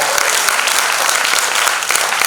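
Dense, steady applause from a large audience at a centenary concert in a community cinema hall fills the whole stretch, loud and continuous with no voices standing out.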